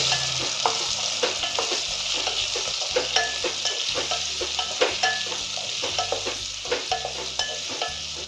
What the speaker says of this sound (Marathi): आता आपल्याला भाज्या टाकायच्या भाज्या थोड्या हलवून घेऊ